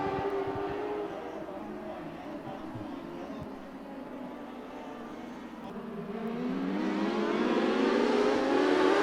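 ModLite race cars roar around the Arizona Speedway oval during the main event, a steady distant engine drone whose pitch dips and then climbs as the pack comes back around, with faint commentary underneath.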